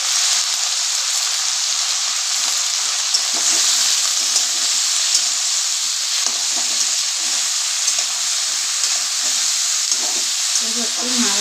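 Flat beans fry with green chilli, salt and turmeric in a pan, giving a loud, steady, close sizzling hiss throughout with faint stirring scrapes underneath.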